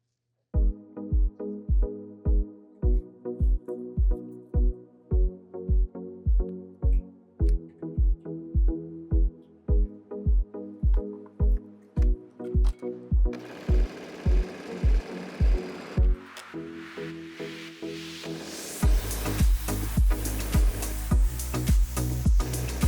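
Sewing machine stitching the side seam of a fabric tank top, a fast regular run of needle thumps in short bursts with brief pauses, ending in a louder, harsher whir.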